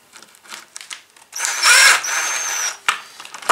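A power drill drives a 1 inch screw into wood for a Kreg micro pocket hole joint, a loud whining burst of about a second and a half after light handling noises, with a fainter second run and a sharp tap near the end.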